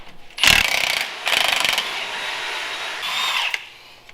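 Power tool driving bolts while parts are fastened back onto a Jeep in a garage, three loud whirring bursts close by, the first short and sharp, the others longer, with pauses between.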